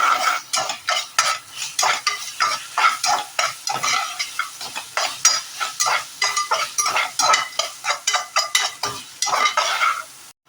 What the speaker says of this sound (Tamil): இஞ்சி பூண்டு வதக்கியாச்சு.